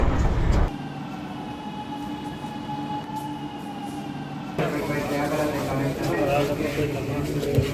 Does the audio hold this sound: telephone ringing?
no